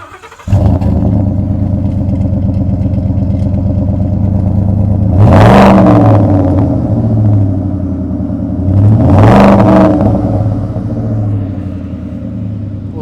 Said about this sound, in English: I need you to go crank the vehicle and do a little rev action